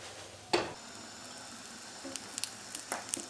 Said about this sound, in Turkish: Şimdi ocağa koyup kızartacağım.